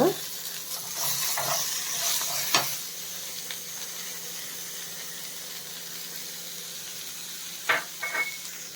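Grated coconut is tipped into a pan of lentils frying golden brown, giving a soft, steady sizzle and hiss with a few stirring scrapes near the start and end, close and fairly quiet.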